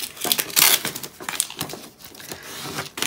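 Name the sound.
scraping vinyl decal and transfer tape down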